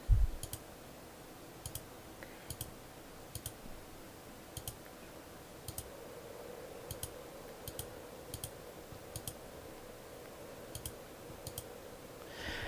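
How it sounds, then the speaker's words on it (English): Sharp, faint computer mouse clicks, including right-clicks, repeat at irregular intervals, roughly a dozen over a quiet, hissy room background with no talking. "Shift right click again"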